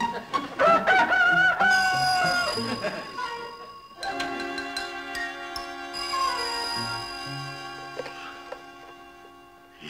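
A pet chicken crows loudly and close by in a home, giving a long strained cock-a-doodle-doo followed by clucking and a second drawn-out crow, with no other voices over it.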